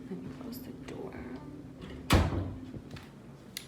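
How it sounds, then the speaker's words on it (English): A bedroom door is shut with a single sharp thud partway through, preceded by faint handling sounds and a low background hum, with a small knock following near the end. "Let me close the door."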